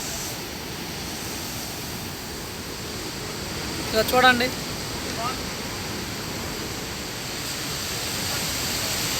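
Water surges through a raised sluice gate at the Mallavaram project dam in Maddipadu mandal, Ongole, a steady broadband roar filling the scene while someone speaks briefly over it.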